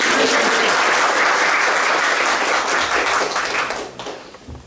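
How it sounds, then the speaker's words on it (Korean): Audience applause at a disability day-care policy forum, a dense, loud sustained round of clapping from a seated crowd that fades out toward the end. "그럴 때 박수 한번 주시면"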